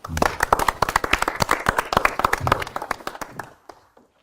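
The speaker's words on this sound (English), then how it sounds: "And big applause." An audience at a card magic show claps loudly in a lively, uneven patter of sharp hand claps that fades out toward the end.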